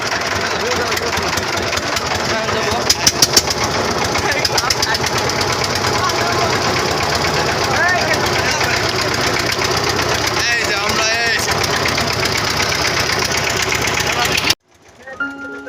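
A riverboat's motor runs loud and close with a steady, throbbing mechanical drone and a few sharp knocks near the start, then cuts off abruptly near the end.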